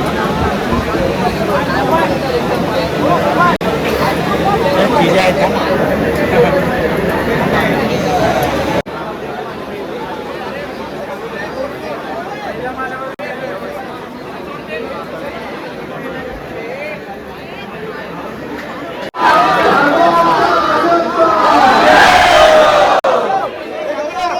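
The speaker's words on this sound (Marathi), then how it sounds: "भाविकांची गर्दी पाहू शकता तुम्ही या ठिकाणी" A dense crowd of devotees at Lalbaugcha Raja in Mumbai makes a loud, constant hubbub of chatter and shouting, rising louder near the end, with a reporter talking over it.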